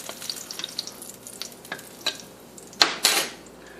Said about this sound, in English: We're going to put another set in the frying pan.